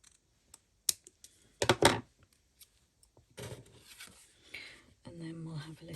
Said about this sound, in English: I'm going to use my scissors for this.